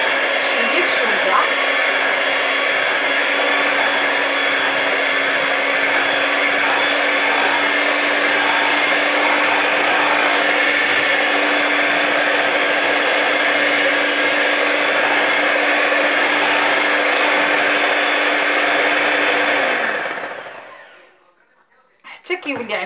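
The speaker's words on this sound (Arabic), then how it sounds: "غادي نبدا انا كنحرك، انا كنضيف الحليب شويه بشويه" An electric mixer whirs steadily while cake batter is mixed and milk is gradually added, a loud continuous motor drone for about twenty seconds before it winds down and stops.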